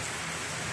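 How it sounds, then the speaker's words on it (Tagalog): Dense, heavy rain from an approaching typhoon hisses steadily on a surface, a continuous close roar with no pauses. "Ayun, lakas ng ulan."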